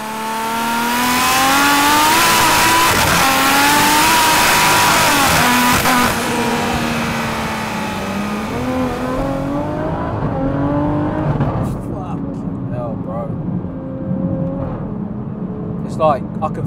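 An 880bhp BMW M140i accelerating hard, its engine note climbing through rising harmonics before shifting and easing off to a lower rumble, loud and close from inside the car, with a person talking over part of it.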